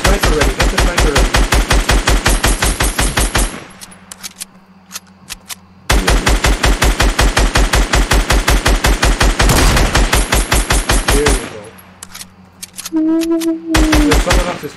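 Rapid automatic gunfire from a PS4 online shooter, loud sustained bursts of tightly spaced shots with brief pauses between volleys.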